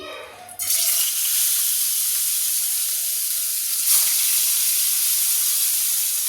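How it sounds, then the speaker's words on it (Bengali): A loud, steady sizzle of frying in hot oil bursts up and holds as rohu fish pieces drop in, a continuous hiss close by with no talking. "এবার আমি মাছগুলো একটু একটা একটা করে ভেজে নিই"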